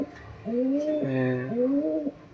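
Domestic pigeons, a paired couple in a loft, coo in a clear, close, rolling call that swells and falls in several stacked tones over about two seconds, with faint background noise and no talk over it.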